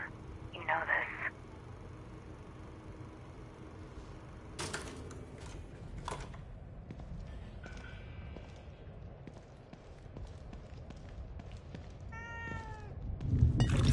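A cat meows in the video game The Evil Within 2, a few short meows near the start and another near the end, under game ambience and spoken dialogue.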